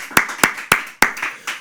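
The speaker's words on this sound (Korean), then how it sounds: "한번 믿는 분들 박수로 함께 나누겠습니다" A church congregation at a morning devotional service claps in unison: five sharp, evenly spaced claps close by, with nothing else heard between them.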